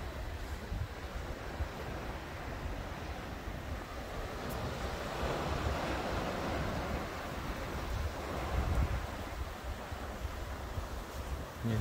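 Ocean surf at Heisler Park in Laguna Beach, a steady broad wash of breaking waves with wind noise across the microphone, swelling slightly at times and continuous throughout with no talk.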